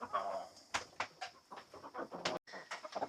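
Chickens and roosters in a backyard garden flock, clucking and squawking in short bursts at close range, with brief pauses between calls.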